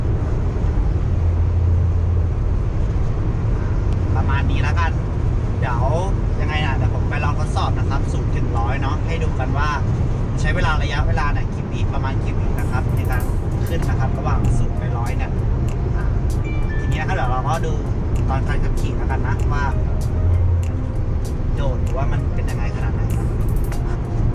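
A 2018 MG GS 1.5 X SUV cruises on the road with a steady low cabin drone and road noise, while someone talks continuously over it.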